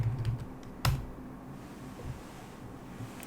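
Keys clatter on a computer keyboard during a programming exercise, with one sharp, louder keystroke like Enter standing out near the start before quieter, sparse typing continues.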